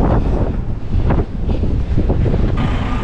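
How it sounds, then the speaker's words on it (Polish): Strong wind gusts batter the microphone in a loud, continuous roar with bursts and buffeting while a truck load is tarped, no voices present. "Tarpa rozłożona, strasznie wieje."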